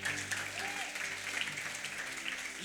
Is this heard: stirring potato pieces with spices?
no